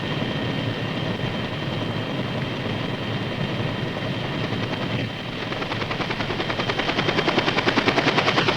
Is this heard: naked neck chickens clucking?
no